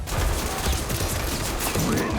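Rapid gunfire in the tactical shooter Ready or Not, a dense, continuous burst of shots crowded together across the whole span, loud and close, with a player's exclamations mixed in.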